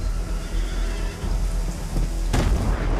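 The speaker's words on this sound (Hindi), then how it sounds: "ये सह्याद्री की बारिश है, 3 महीने तक नहीं रुकेगी" Heavy monsoon rain over the Sahyadri hills pours as a steady, dense wash with low rumbling underneath, swelling into a louder gust near the end.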